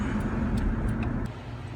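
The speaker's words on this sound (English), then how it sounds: "Car's riding really smooth over these bumps." A 2001 Honda CR-V with newly replaced sway bar bushings rides smoothly over bumps, heard from inside as a steady low road rumble with no clunks, easing slightly near the end.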